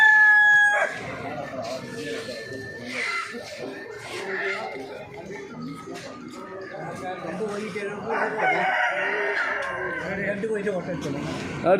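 Chickens clucking and roosters crowing in a busy Sunday country-chicken market in Perambra, Kerala, with people talking over the steady background of birds.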